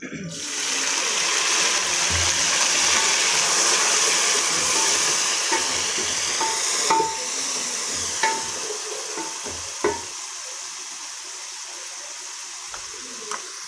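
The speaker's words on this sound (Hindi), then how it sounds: "पानी डाल रही हूँ।" Water pours and splashes into a hot pan, sizzling loudly at first, then fading into scattered bubbling and clinks.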